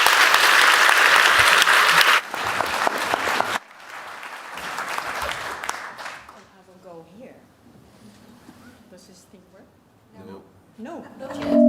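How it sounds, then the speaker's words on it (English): Audience applause at a sold-out evening book event, loud clapping at first that drops in stages and fades out, followed by someone talking with scattered room noise. "Give her, please, a warm applause."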